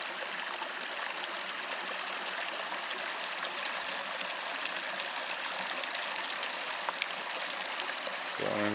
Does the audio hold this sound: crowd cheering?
no